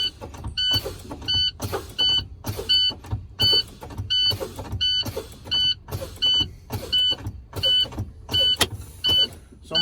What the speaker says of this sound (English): So now I'm gonna keep pumping again until my brake knobs pops out.